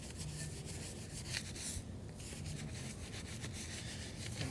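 Tapered detailing brush scrubbing deep inside a BMW wheel behind the brake caliper, a continuous close rubbing and scratching swish with steady strokes and no talking.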